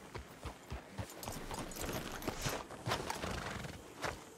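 Horses in the Red Dead Redemption 2 video game clop along at a walk with steady hoof beats, and a neigh or whinny rises midway, all fairly close with no talk over it.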